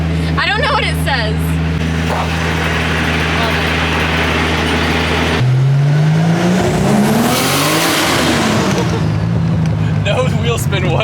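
C4 Corvette with a swapped RB25 engine pulling hard on a street, steady loud drone that drops then climbs in pitch as it accelerates through a gear, voices talking over it.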